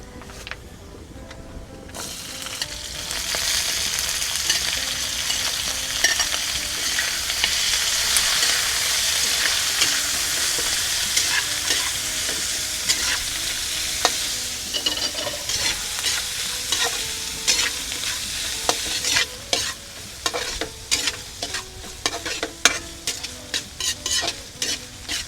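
Mixed vegetables hit hot oil with crispy fried garlic and pepper, launching a loud, steady sizzle that later breaks into sharp scraping stirs and clinks of a spatula against the pan, all without voices.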